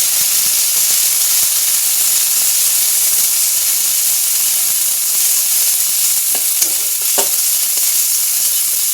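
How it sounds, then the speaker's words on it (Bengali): Mashed taro paste sizzles and is stirred in hot oil, a steady dense hiss running throughout with a few scraping stir strokes near the end, close and loud, no voices. "সেই কচু বাতাটা এর উপর দিয়ে দিচ্ছি দিয়ে এবার একটু এটা ভালো করে তেলের সাথে নেড়ে নেবো"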